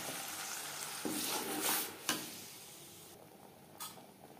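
Masala paste fries in oil in a kadai that has just been used to fry capsicum, giving a soft steady sizzle. A few scraping stirs and light utensil clinks sit over the sizzle, which fades toward the end.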